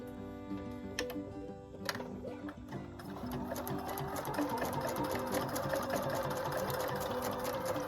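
A Husqvarna Viking #1+ sewing machine runs steadily, its fast needle chatter building into a continuous close whirring stitch after a few starts and stops, with faint talk in the background.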